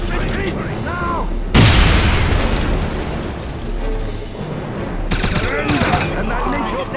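A grenade blast in the 2009 game Wolfenstein: one loud, close explosion followed by a rumbling wash of gunfire and debris, with shouting voices before and after it.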